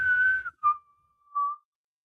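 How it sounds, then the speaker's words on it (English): A clear whistle: a steady tone that drops into a thin, wavering note, then a short final toot, all alone in quiet. "I just heard like a whistle,"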